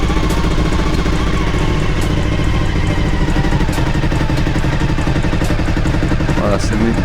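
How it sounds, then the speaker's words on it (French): A Suzuki SV1000S V-twin, just rebuilt, idles at 1400 rpm: a steady, loud, close-up throbbing rumble with an even mechanical clatter, while someone talks over it. "c'est un ralenti beau, c'est 1400 tours minute"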